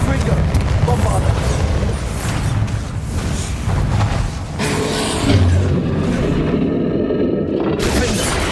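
Spell blasts in Hogwarts Legacy gameplay: loud, booming explosive bursts with rumbling echo and dense crashing impacts layered over game combat noise, continuous and near throughout, with voices calling out.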